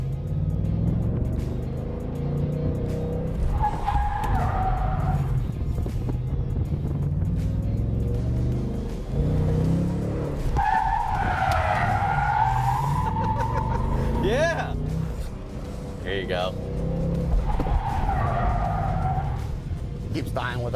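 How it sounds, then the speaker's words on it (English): Tires of a modified 2024 Ford Mustang GT skidding, engine drone with rising squeal-like sweeps as the car slides, under ongoing talk. "Where the car is literally sliding."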